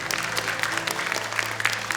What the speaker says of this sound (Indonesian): tepuk tangan untuk Dewan Juri kita